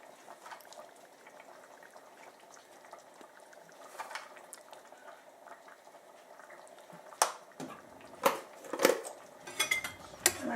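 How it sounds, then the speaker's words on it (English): A pot of cooked red lentil dal simmers quietly at first, then metal utensils clink and scrape against the pot in several sharp, close knocks toward the end, with no talking. "I'm just checking my dal if it's been cooked"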